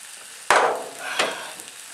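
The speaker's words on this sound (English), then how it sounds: "you can probably just leave the corn in there and eat that last while it sizzles down" Corn cooks on a VitalGrill camping wood stove, giving two abrupt bursts of sizzling, the first sharp and loud, the second softer, each fading back to a quiet crackle nearby.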